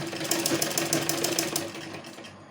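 A sewing machine stitches a lined kurti seam with a fast, even run of mechanical needle knocks that slows and fades toward the end.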